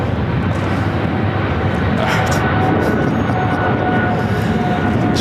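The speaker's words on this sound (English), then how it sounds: "777-300ER taking off 25 right on the south side." A Japan Airlines Boeing 777-300ER taking off from runway 25 Right on the south side of LAX, a steady broadband jet roar filling the whole span at consistent loudness, with faint tonal whines riding on top.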